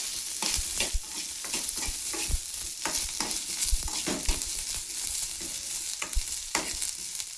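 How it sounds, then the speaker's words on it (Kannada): Green chillies fry in hot oil for a North Karnataka chana dal saaru, giving a steady close sizzle broken by repeated scraping stirs and clinks of a spatula against the pan. No one speaks. "ಈಗ ಮೆಣಸಿನ್ಕಾಯಿ ಹಾಕೊಳ್ಳೋಣ. ಚೆನ್ನಾಗಿ ಎಣ್ಣೆಗೆ ಫ್ರೈ ಆಗುತ್ತೆ ನೋಡ್ರಿ ಫ್ರೆಂಡ್ಸ್."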